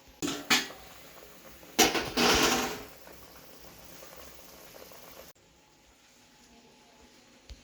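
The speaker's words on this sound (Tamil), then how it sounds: "மூடி வச்சிடலாம். கொதிக்கிற தண்ணி." Water heats in a covered pot for vegetable biryani made with basmati rice, a few loud bursts of bubbling giving way to a quieter steady simmer before it falls almost silent.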